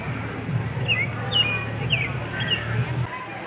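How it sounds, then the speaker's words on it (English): Birds at Denver Zoo give several short, thin chirps and whistled calls at moderate distance over a steady low hum and background murmur. "I see these birds all over the place."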